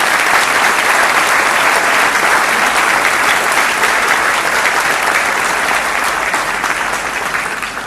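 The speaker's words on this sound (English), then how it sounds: "So can I hear a good round of clapping from everyone?" A Toastmasters meeting audience breaks into loud, sustained applause, a dense steady wash of many hands clapping that fills the room for several seconds and tapers only slightly at the end, with no talk over it.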